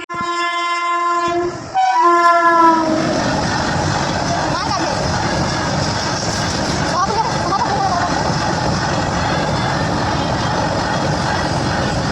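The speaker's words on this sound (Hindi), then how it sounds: "आ रहा है ट्रेन आ रहा है।" A train passes near a roadside public area, opening with a loud sustained horn blast that breaks briefly and resumes, then a steady rumbling roll and clatter of cars that continues to the end.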